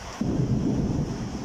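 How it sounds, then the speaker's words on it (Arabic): Thunder rolling low and heavy during a rainstorm, a brief rumble over steady rain hiss. "أمطار خير وبركة إن شاء الله"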